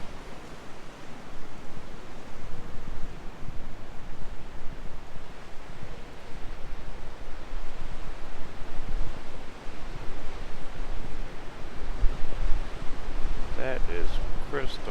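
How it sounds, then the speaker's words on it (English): Ocean surf washes through the rocks along the shore at Shore Acres, Oregon, a steady broad roar mixed with gusty wind buffeting the microphone. "Look how the water's going through all the rocks."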